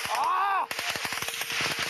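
Rapid bursts of automatic gunfire crack out during a firefight on open ground in Afghanistan with Danish soldiers, loud and close, shots stuttering in quick irregular volleys after a brief whistling tone.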